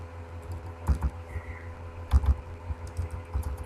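Keys on a computer keyboard are tapped close by in short bursts. Clusters of soft clicks are separated by brief pauses.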